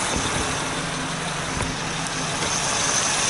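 An Acura MDX engine idles steadily with a low, even rumble and broadband hum, close by and continuous, with no voices.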